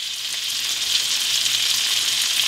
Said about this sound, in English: I'm going to give it a squirt of lemon. And we're going to let that fry.